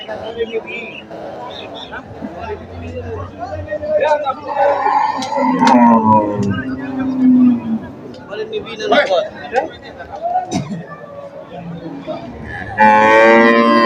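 Cows low repeatedly amid a noisy weekly livestock market, some calls close and loud, others farther off, mixed with people chattering in the background.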